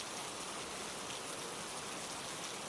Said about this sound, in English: The steady patter of rain